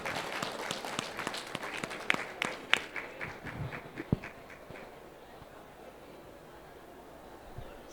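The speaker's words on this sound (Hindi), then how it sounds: "एक बार जोरदार तालियां सर के लिए हो जाए।" Audience clapping at a national Ayush health conference and expo, brisk and scattered at first, then thinning into a few last claps and quiet room noise.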